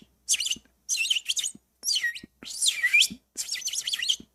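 A bird chirps and tweets in five quick bursts of bright, fluttering calls with short gaps between them, heard close and clear against a quiet background.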